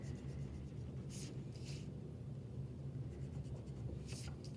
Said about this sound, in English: So I'm gonna just erase any visible pencil lines that I see left over.